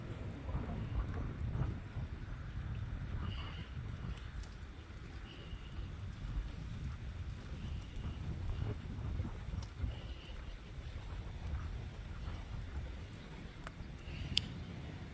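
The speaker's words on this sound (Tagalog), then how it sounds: "Matutumba ka sa hangin." Strong wind rushes and roars against the microphone in a continuous low buffeting, with faint scattered clicks in the background.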